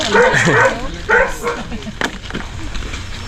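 A dog barks in short bursts close by while people talk over it.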